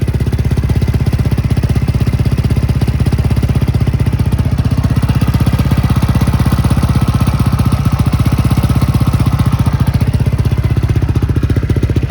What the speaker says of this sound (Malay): kita dengar dia punya bunyi enjin itu sama ada kasar ke tidak.